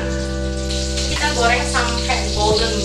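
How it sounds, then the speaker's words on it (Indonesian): Food frying in oil in a pan until golden brown for gado-gado, a steady loud sizzle with bubbling bursts and a low constant hum underneath, while people talk over it. "Kita goreng sampai golden brown gitu."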